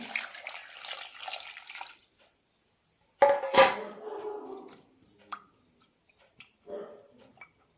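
Water is poured into a cooking pot of potato pieces for poori masala, a steady splashing stream lasting about two seconds, then a sharp metallic clank and a few light knocks of the pot in a quiet kitchen.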